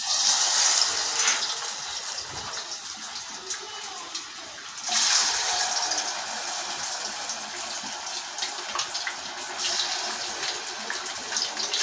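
Fish pieces drop one by one into hot oil over a high flame and fry with a loud, steady, hissing sizzle that swells again partway through, continuous throughout with no talking.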